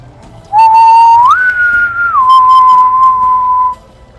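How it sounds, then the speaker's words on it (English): A single loud, clear whistle rises in pitch, holds a higher note, then drops back and sustains before stopping, alone over faint background noise, at an outdoor market bandstand. "You hear that whistling getting louder, Jack, coming from the center at the bandstand"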